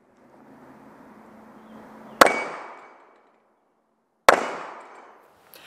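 Two sharp, loud pistol shots about two seconds apart, each followed by a ringing decay, with a faint, low rumble before the first and quiet between them.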